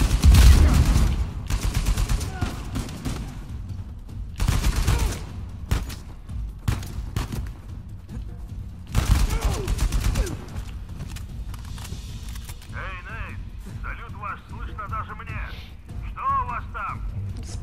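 Shotgun blasts and gunfire burst out in loud, separate volleys during a firefight in Uncharted 4, with quieter gaps between them, and someone speaks in the closing seconds.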